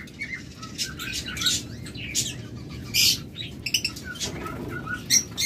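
Caged lovebird breeding pairs at a Bangladesh bird farm give scattered sharp chirps and tweets with bursts of wing flapping, close and irregular over a low background hum.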